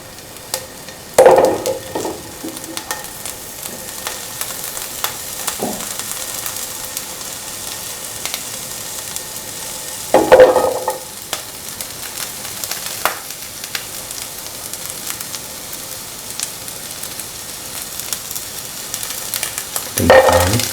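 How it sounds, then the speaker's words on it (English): Whole shallots sizzle in hot oil in a pan, a steady soft frying crackle with occasional louder bursts from stirring, repeating every several seconds. "Let the oil get heated. Put in the shallots"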